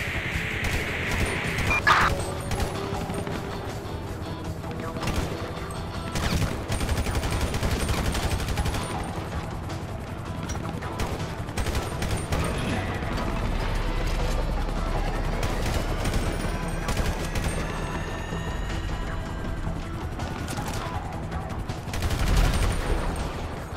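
Gunfire aimed at police in Grand Theft Auto V, with dense bursts of shots and rapid automatic fire in a chaotic chase, loud and repeated across the whole stretch with crashes and a faint radio-style voice now and then.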